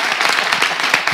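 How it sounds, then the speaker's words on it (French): Applause from a live debate-show audience fills the room, a dense steady patter of many hands clapping throughout, close and fairly loud. "Applaudissez Rock, Katako."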